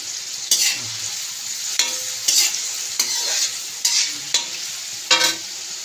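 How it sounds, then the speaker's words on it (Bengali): Green peas fry over a high flame for egg Schezwan rice under a steady hiss. About seven sharp scraping bursts from a spatula tossing the pan come at an uneven rhythm. "একটুখানি ভাজবো, হাই ফ্লেমেই ভাজবো একটু।"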